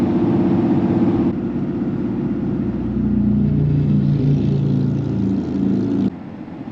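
An RV cruising at about 60 mph on a smooth stretch of I29 South, a loud steady engine and road rumble with a broad hum that holds level, then drops suddenly near the end.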